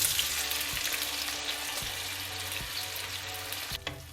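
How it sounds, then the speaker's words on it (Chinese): Diced tomatoes hitting hot oil in a wok give a steady, bright sizzle and crackle throughout, with a few soft scrapes and a faint clatter near the end, no voices. "咱们锅里放油，油热以后下刚刚切好的西红柿丁"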